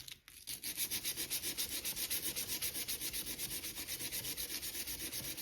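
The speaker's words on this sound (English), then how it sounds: "Then take your sandpaper" Sandpaper rubs back and forth over American Flyer S gauge model train track that has been wetted with alcohol, a steady rhythmic scratching of quick, even strokes, close and fairly faint.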